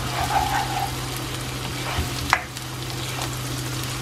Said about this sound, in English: Who loves this garlic onion sizzling noise?